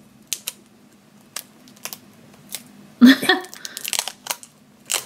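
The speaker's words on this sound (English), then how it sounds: "Let me get this plastic off of him." Crinkly plastic wrapping is peeled off an emoji squishy toy at close range in a short burst of rustling and tearing, preceded by scattered small taps and handling clicks, with a voice speaking nearby.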